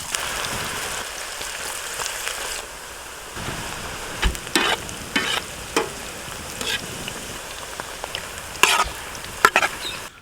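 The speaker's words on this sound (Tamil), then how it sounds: "இப்போ நம்ம பக்கோடாவை போட்டு பொரிச்சு எடுத்துக்கலாம்." Mutton pakoda deep-frying in hot groundnut oil, a steady bubbling sizzle heard close up with occasional sharper crackles and pops, no voices present.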